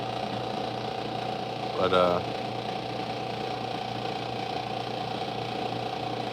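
A sewing machine stitching boots hums steadily and evenly from start to finish, with a single short spoken word cutting in briefly near the two-second mark.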